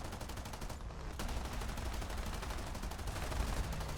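Aircraft machine guns on a Grumman F6F-5 Hellcat rattle in a rapid continuous burst at a Do 217 bomber in a flight combat video game, with dense steady firing over engine drone and no talking.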